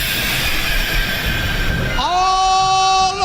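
A train sound effect plays at an under-8s sports match: a loud rumbling roll of rail noise gives way to a sustained, multi-toned whistle blast that rises and holds, close and dominant.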